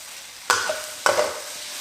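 Small prawns fry in a wok-style karahi under a soft continuous sizzle, with two sharp metallic scrapes of a utensil flipping and turning them about half a second apart.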